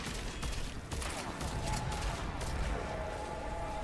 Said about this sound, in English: Damn machine gun sounds like my audio when it breaks